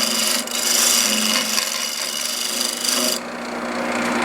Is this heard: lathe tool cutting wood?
yes